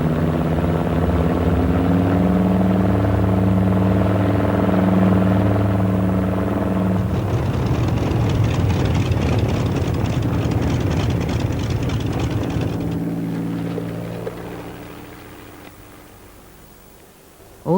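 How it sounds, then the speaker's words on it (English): A reconnaissance aircraft drones overhead with a loud, steady propeller-engine hum that shifts in tone midway, then gradually fades into the distance, with no speech. "Every day, British reconnaissance aircraft flew above occupied Europe."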